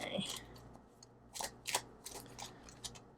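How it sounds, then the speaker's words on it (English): Tarot cards being shuffled by hand, soft irregular riffling and snapping bursts close to the microphone, with quiet speech at the start. "I better stop shuffling."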